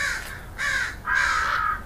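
Crows cawing nearby after being drawn in by an electronic crow caller outdoors: three loud, harsh caws in quick succession, the last one longer and drawn out.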